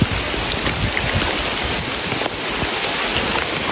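Steady rain falls during a ride to Bheemeshwara Falls, a dense, even hiss of drops on surfaces that continues unbroken for a few seconds, with no voices over it.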